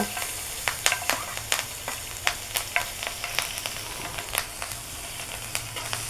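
Green chilies sizzle and crackle in hot oil in a pan, with a steady frying hiss broken by frequent sharp pops and spits, close and moderately loud, no talking.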